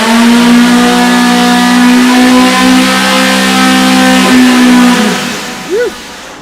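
Modified EMPI engine at full throttle during a dyno pull in a grand-finals engine battle, a loud, close, sustained buzzing drone that holds steady, then cuts off and falls away to a short final blip.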